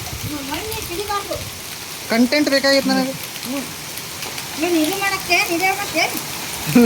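A hailstorm in Vijayapur, North Karnataka, with hail and rain pouring down as a steady, dense hiss throughout, while people talk loudly close by.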